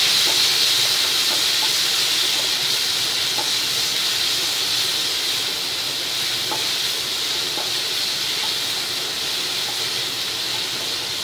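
A tomato fries in a pan with urad dal in a home kitchen, giving a steady close hiss and sizzle throughout with faint occasional clicks and no talking.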